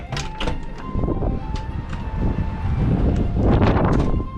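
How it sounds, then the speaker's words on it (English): Strong gusty wind buffeting the microphone, a loud low roar that swells and surges, with faint rattling in the background. "It's just very, very windy."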